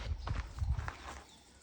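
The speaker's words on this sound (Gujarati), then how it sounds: "ભેહું એને બાંધી દીધી, જોવે ઘોડા" Horse hooves clip-clop in a quick, uneven run of close, loud beats that ease off toward the end, with no one talking.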